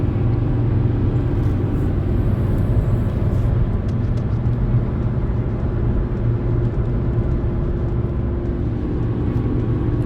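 A Volkswagen Golf SportWagen with a 2.5 liter engine and manual gearbox is driven, giving a steady, loud, low road-and-engine rumble with wind noise throughout and no voices.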